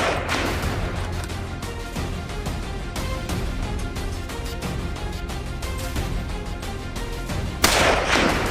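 Rapid bursts of gunfire ring out from a hunter shooting at a wild boar in the wilderness, dense sharp cracks repeating throughout with a louder burst near the end, no talk.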